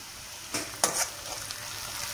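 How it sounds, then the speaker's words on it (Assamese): Onions fry in oil with turmeric, a soft, steady sizzle close by, broken by a few sharp spatula scrapes and stirs against the pan. "পিঁয়াজখিনি এয়া অলপ ভাজি লৈছোঁ।"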